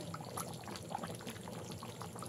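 Cornflour mixed with water pours into simmering chilli chicken gravy in a pan, a faint, close liquid trickle and splash with soft bubbling, no voices.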